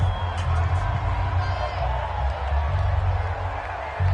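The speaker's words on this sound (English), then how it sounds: "The crowd getting into it as we come up on a big 3rd down." A stadium crowd in a football video game roars steadily before a big third down, a dense continuous wash of cheering with a low rumble, loud and unbroken with no clear voices on top.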